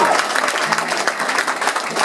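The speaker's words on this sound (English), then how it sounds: "That in itself deserves a round of applause." Audience applause in a room at an acoustic rock show, a dense steady patter of clapping from a crowd that holds at an even level throughout.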